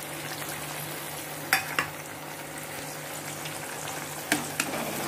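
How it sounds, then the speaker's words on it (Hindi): Garlic and ginger paste fries in hot oil in a pan for a white chicken with cashew paste dish. A continuous close sizzle runs throughout, and a few sharp utensil clinks cut through it, with no talking. "और इसी के साथ हम लोग डाल लेंगे जो लहसुन और अदरक का पेस्ट हम लोगों ने रखा हुआ था वो"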